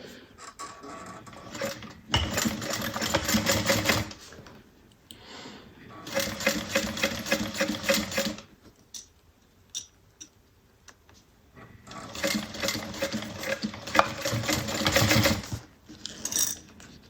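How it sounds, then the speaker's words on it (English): A sewing machine stitches a half-inch seam across a fabric Jasmine bag, running in three steady bursts of rapid mechanical chatter separated by short pauses, close and fairly loud, with no one speaking. "it says to sew it across at 1/2 inch"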